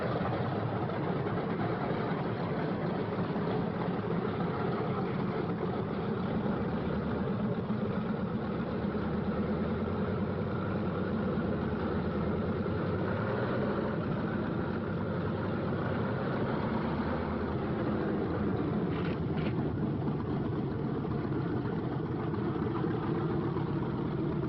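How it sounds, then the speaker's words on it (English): Engines of P-47 Thunderbolt fighter planes warm up on a 1945 airfield, a continuous throbbing piston drone with a rough low rumble that holds steady for the whole stretch, slightly muffled and without speech. "On the field, planes warm up. It's takeoff time for the Thunderbolts."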